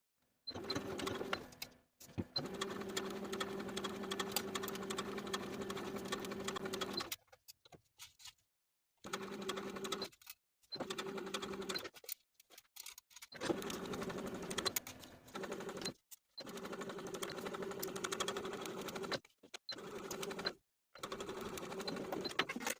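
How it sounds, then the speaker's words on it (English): A sewing machine stitching slowly around the neckline of a tank top, steady whirring runs broken by pauses of a second or two between bursts, close and clear with no voices. "Sew slowly and carefully around the neckline so that you don't catch the loose edges of the straps as you sew."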